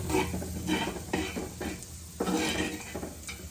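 Fish curry gravy frying in a pan with a steady sizzle, broken by a few scraping stirs and light clinks of a utensil against metal.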